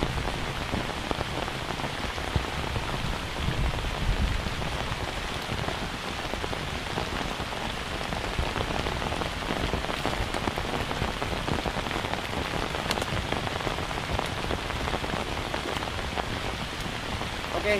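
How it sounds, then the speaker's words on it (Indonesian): Steady rain falls on surfaces in a tropical forest, a dense continuous hiss with scattered close drops pattering throughout, with no voices over it. "Oke, hujan kembali turun."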